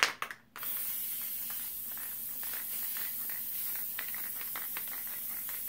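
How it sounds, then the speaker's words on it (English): Hornady One Shot Lube sprayed onto brass cartridge necks: a close, steady aerosol hiss running continuously after a brief initial burst, fairly quiet. "take Hornady One Shot Lube and spray all your necks real quick and easy"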